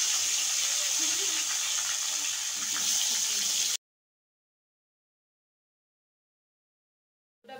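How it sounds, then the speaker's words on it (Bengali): Salted, turmeric-coated long potato strips fry in hot oil with a dense, steady hiss and sizzle for about four seconds, then cut abruptly to silence before a brief return at the end. "এগুলোকে ভেজে নিচ্ছি।"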